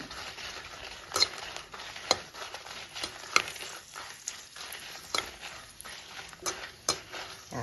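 Dry red chillies frying in a pan on low heat, with a soft, steady sizzle broken by sharp clinks and scrapes of a spoon stirring them, close by and moderately quiet.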